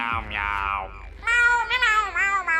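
A voice imitates a cat, giving a run of high, stretched meows with wavering pitch, close and clear, in the manner of a SpongeBob cartoon snail character.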